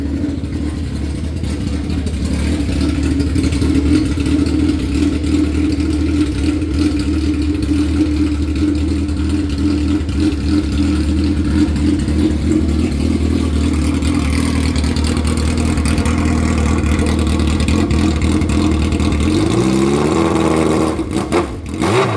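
Suzuki Hayabusa motorcycle with an open exhaust runs loud and close for a long, steady stretch of throaty, raspy roar, then the revs drop sharply near the end before a final blip; no voices.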